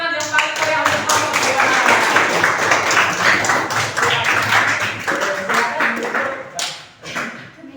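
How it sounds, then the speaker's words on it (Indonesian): Group applause for the second team after their presentation in a school academic coaching session: loud, dense clapping from a crowd of people, sustained for several seconds before thinning out near the end, with some voices mixed in. "tepuk tangan yang paling meriah untuk kelompok"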